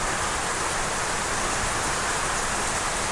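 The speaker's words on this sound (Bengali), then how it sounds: "মানে প্রচুর বৃষ্টি হইতেছে, ভালোই লাগতেছে" Heavy rain pours steadily onto a waterlogged courtyard during the monsoon, a dense, even hiss of falling water filling the scene at close range with no voices.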